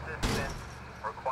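A single sharp gunshot cracks out in a police tactical video game, followed by a couple of fainter bursts, with a voice talking briefly afterward.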